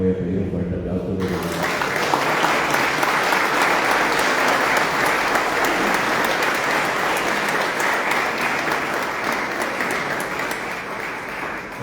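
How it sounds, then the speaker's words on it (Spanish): Audience applause at a talk on folklore and traditions, a loud, dense wash of clapping that starts abruptly after a brief spoken moment and holds steady, fading slightly toward the end. "del inmenso Miguel Coria, para quien voy a pedir un fuerte aplauso"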